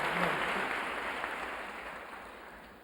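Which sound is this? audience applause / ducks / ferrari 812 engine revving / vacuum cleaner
audience applause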